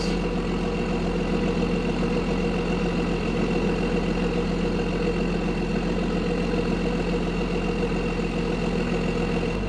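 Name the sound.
12 valve Cummins engine truck running and moving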